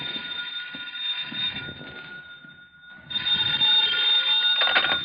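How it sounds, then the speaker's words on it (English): An old-fashioned telephone bell rings in an old-time radio detective drama. Two loud, sustained ringing bursts sound close, separated by a short pause, with no talk. "Then the phone rang."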